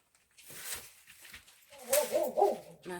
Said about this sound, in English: That's my dog talking.